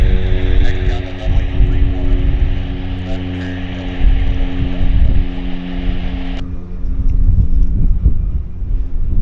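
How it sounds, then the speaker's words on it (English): A WestJet airliner rolls onto the active runway at Vancouver airport, its jet engines giving a steady loud whine and rumble, with wind buffeting the microphone; the high whine drops away abruptly partway through. "WestJet turning on to the active."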